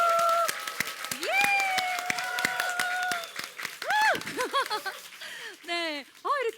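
A studio audience at a Korean Christian talk show lets out loud whoops and cheers over scattered, sharp hand claps, with rising and falling shouted voices filling the space close by.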